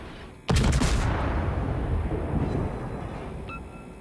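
A single heavy boom of naval gunfire from a Yugumo destroyer in a video game, with a sharp crack that rolls into a long rumbling decay, then a faint tone late in the clip.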